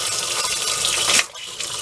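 Water gushes loud and close from a faucet in an off-grid RV being winterized with antifreeze, a strong steady stream that briefly sputters with air before flowing again.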